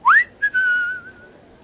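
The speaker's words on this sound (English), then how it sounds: "Whistle." A Thomas & Friends video game train whistle sounds once as a rising toot, then a short blip and a long steady tone that fades, clear and alone.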